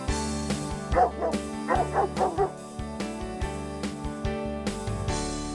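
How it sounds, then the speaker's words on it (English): A dog gives several short yipping barks and whimpers in bursts over a steady background of sustained music, with the barks close and moderately loud. "He's a good dog."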